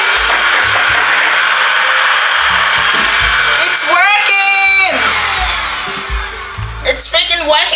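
A newly unboxed vacuum cleaner runs with a loud, steady, hissing whoosh. Partway through, a voice whoops and yells excitedly over the motor noise, and the sound thins out near the end.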